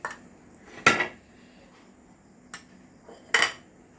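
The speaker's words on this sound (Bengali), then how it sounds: "ভালোভাবে মিলিয়ে নিব।" A utensil knocks against a bowl a few separate times while spices and rice flour are mixed for kakrol bhaja, with quiet gaps in between and no voices.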